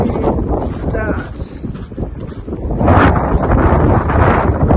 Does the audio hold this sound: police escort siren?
no